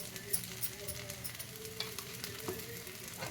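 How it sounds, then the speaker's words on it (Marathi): Crispy semolina (rava) dosa sizzling in oil on a hot pan, a steady soft crackle with faint spits and pops throughout, no voices. "परत भाजण्यासाठी थोडंसं तेल त्याच्यावर सोडायचं आहे"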